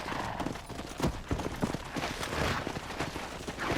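Horse hooves clop in the Red Dead Redemption video game, an irregular run of hoofbeats on the ground over a soft background wash, without speech.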